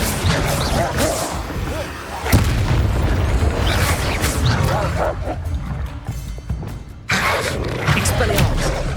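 Bombarda blasting spell cast in Hogwarts Legacy, sharp explosive booms bursting amid chaotic combat noise, with a shouted voice and a dog barking, loud and busy with a brief lull before another blast.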